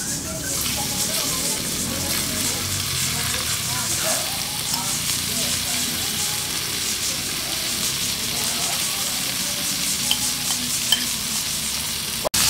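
Eggplant frying in margarine on a hot sisig plate, a steady close sizzle with soft crackles and stirring scrapes throughout, ending with a sharp knock.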